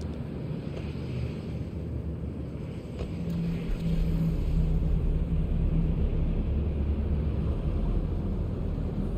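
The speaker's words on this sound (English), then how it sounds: "Sports car." A sports car in The Matrix Awakens game drives through city streets, with a steady low engine rumble that grows slightly louder midway and holds a constant droning tone, close and continuous.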